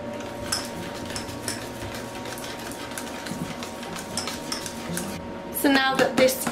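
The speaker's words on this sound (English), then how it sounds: "I'm just going to add half a cup of chocolate chips and stir this until they're all melted" A spoon stirs chocolate chips into a thickened mixture in a pot until they melt, with soft scraping and occasional light clinks of metal against the pan, louder clatter near the end.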